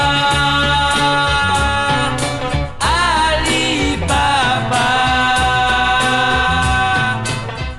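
Sixties French freakbeat garage rock: a dense, loud band track with driving drums, fuzzy guitars and bright harmonic stabs, playing steadily throughout with no talking over it.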